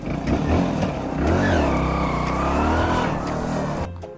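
A motor vehicle engine starts and revs close by, loud and sustained, its pitch climbing and holding before easing off at the end.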